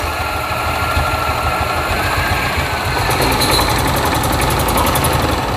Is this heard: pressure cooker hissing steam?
no